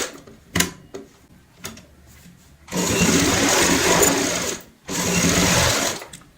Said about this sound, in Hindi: यहाँ पे एक पैर का मार्जिन रखेंगे और सिलाई लगाएंगे।